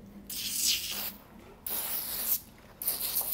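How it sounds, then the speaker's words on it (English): Hair product sprays from an aerosol can onto hair in three hissing bursts, close and crisp, separated by short pauses. "So I'm just spraying without spraying it all over myself."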